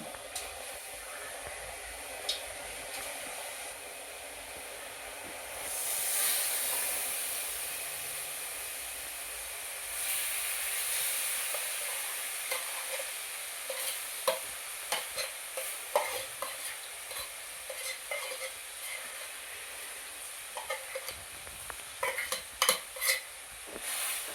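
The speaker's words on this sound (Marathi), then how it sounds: "ही साय आपण आता कढईमध्ये टाकलेली आहे" Cream skimmed from cow's milk sizzles and bubbles in a hot kadhai over medium heat while being made into ghee, with a soft steady hiss, occasional crackles and a few clinks of a spoon against the metal.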